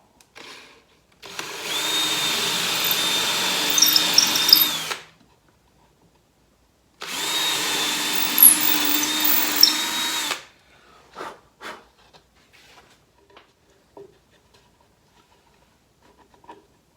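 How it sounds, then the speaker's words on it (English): Power drill boring handle holes through a painted wooden drawer front, two steady whirring bursts of about three seconds each with a pause between, then scattered light clicks and handling knocks. "we'll just drill through here"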